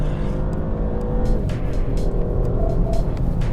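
A 2024 Porsche Panamera accelerates hard, its engine roaring loud and steady from close inside the car, with no talking over it.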